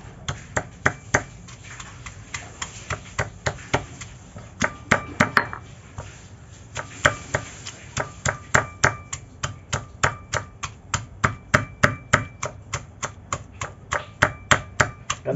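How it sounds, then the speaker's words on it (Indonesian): Chillies and onions pounded for sambal kuini, a rapid series of sharp, close thuds and knocks in a steady rhythm, dozens of strikes with brief pauses, and no talking over them. "Kita tumbuk juga semua sekali ni."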